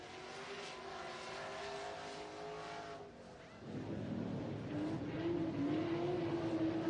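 Pro Stock race cars roar around the oval at Santa Maria Speedway, a steady loud engine drone that swells after a brief dip, with one rising engine whine near the end.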